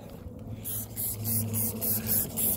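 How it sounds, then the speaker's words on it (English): Rhythmic bursts of a spray nozzle hit car rims during wheel cleaning, five or six short hissing pulses close by with a low hum underneath. "We're gonna spray it one more time."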